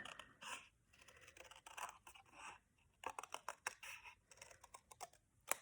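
Scissors snip through a piece of card, cutting a wave shape for a snowman Christmas tag, giving irregular bursts of close, crisp cutting and scraping with short pauses between strokes.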